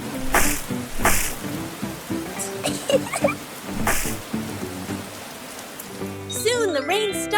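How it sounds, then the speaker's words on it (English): Rain patters into puddles in a cartoon scene, with irregular bursts of splashing drops alongside squeaky playful sounds and giggling voices. "The rain fell pitter-patter, forming big puddles all over the ground."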